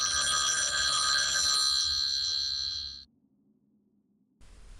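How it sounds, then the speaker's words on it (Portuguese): A telephone bell rings loudly and steadily for about three seconds inside a silent house, then cuts off into near silence before a faint low rumble returns. "Apenas um telefone, mas algo naquele som era diferente."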